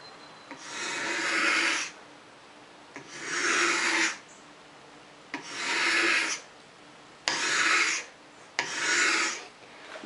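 A dull, unsharpened paint scraper pulled across wood to raise shavings, five rasping strokes of about a second and a half each with short pauses between, close and alone.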